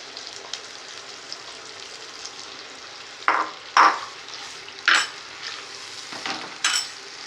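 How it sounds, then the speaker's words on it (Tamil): Ground masala paste frying in oil for a chicken curry, a low steady sizzle punctuated by four or five sharp metal spatula scrapes and clinks against the pan, close and moderately loud. "அரைச்சி வச்சுருக்கோம்ல பேஸ்ட்டு, கறிக்கு மசால் பேஸ்ட்டு, அதை போடுவோம்"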